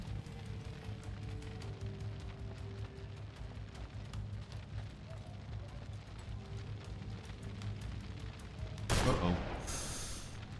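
Rapid gunshots crackle from The Lamplighters League, one sustained stretch of quick, evenly spaced reports beneath a low ambient hum, ending in a louder burst near the close.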